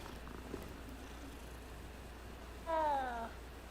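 A cat in the video game Hogwarts Legacy lets out a single clear meow near the end, against a quiet, low background hum.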